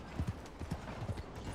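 Horse hooves clip-clop in a steady walking rhythm in Red Dead Redemption 2, close and moderately loud over a low game background, with no talking.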